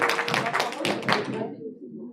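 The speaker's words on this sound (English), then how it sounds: "Let's give a round of applause to the medical aid." Applause from an audience at a pre-retirement workshop sounds as a brisk patter of hand claps that fades out after about a second and a half, with some faint murmur underneath.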